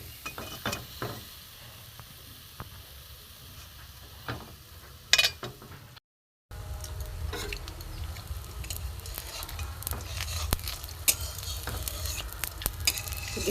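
Pitha fries in oil over low gas, a soft continuous sizzle scattered with sharper pops and clicks, close, briefly cut silent partway through before resuming louder.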